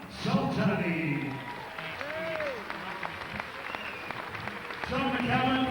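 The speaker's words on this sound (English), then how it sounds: "How about a big round of applause for Maziar, Soltarni" A boxing crowd applauds after a light heavyweight title fight, a sustained wash of clapping under an announcer's voice that swells again at the end.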